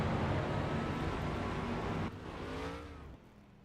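Race cars in NASCAR Racing 2003 driving down the pit lane at Iowa, a dense engine roar that drops away and gives way to a single car's rising whine before fading.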